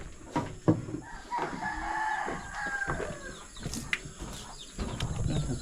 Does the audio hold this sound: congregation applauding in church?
no